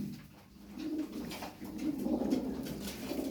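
Soft, low coos from game pigeons repeat in a gentle rolling rhythm, fairly close, with faint chirps and room noise around them.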